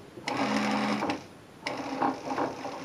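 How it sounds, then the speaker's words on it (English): A sewing machine stitches a sleeve seam upward from the bottom, setting a turned-over edge onto the shoulder. It whirs loudly and close in two steady runs with a brief pause between them, and no one speaks. "put it exactly on the shoulder and stitch it on from the bottom"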